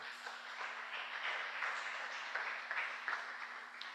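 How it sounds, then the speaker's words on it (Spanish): A church congregation applauding the Lord during a Spanish-language service, a soft steady patter of many hands heard from a distance, with a faint sustained tone underneath and no talk. "Denle un aplauso al Señor."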